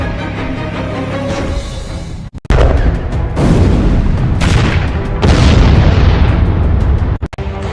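Heavy explosions from Russian tanks being destroyed in the Ukraine war come as a series of loud, close booms, each blast followed by a long rumbling decay, with brief drops to near silence between some hits.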